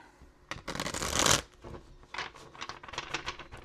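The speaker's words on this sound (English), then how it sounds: "So let's give these a quick shuffle here." A deck of tarot oracle cards is shuffled, a loud riffling burst followed by a series of softer, quick flicking and tapping card sounds, close and alone.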